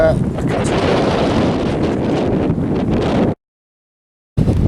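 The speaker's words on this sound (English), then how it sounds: "it's dead windy up here today" Strong wind buffets the microphone on an open moor, a loud continuous roar that cuts to silence near the end before briefly returning.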